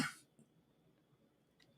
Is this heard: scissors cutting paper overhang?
no